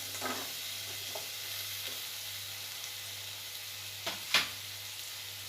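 Chopped potatoes with greens frying in a pan give a steady, low sizzle, with a couple of brief scraping stir clicks near the end.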